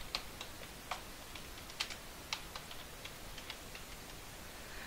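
Quiet, irregular clicks of keys being typed on a computer keyboard, a few light taps spaced unevenly against faint background noise.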